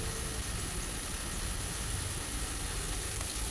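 Squash, string beans and okra simmering in a pan, a steady, even bubbling sizzle with dense crackle that holds constant throughout, close and moderately loud, with no voices.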